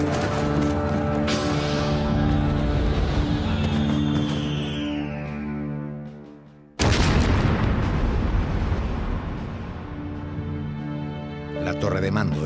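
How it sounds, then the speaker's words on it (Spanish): A naval shell strikes the command tower of the ironclad warship Huáscar. A sudden heavy blast cuts in midway through sustained dramatic music, and a narrating voice carries over it. "La torre de mando del Huáscar estalla pulverizada por un disparo"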